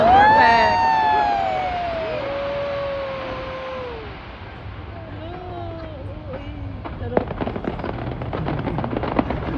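Taipei 101 New Year fireworks display, opening with long whistling tones that slide downward, then sharp bangs and crackling pops growing denser toward the end over a steady crowd murmur with voices.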